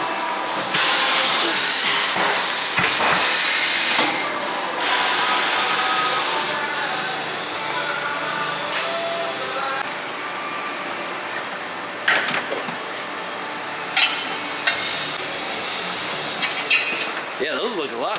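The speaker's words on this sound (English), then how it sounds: "We got the tire machine going over here, you can see." A tire mounting machine clamps and works an off-road TIS Hercules TT1 tire, giving a steady mechanical whirr with clanks and sharp knocks, with people talking nearby.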